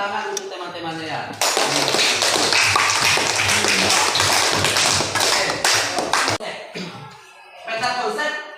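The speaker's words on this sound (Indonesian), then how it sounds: "Tepuk tangan untuk teman-temannya ya." A classroom bursts into sustained applause for classmates, dense loud clapping lasting several seconds, framed by a teacher's voice before and after.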